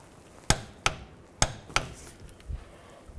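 Bolts on a 2007-13 Chevy Avalanche differential mounting bushing are tightened with a torque wrench, giving four sharp metallic clicks at irregular intervals followed by a couple of softer knocks, close and without speech.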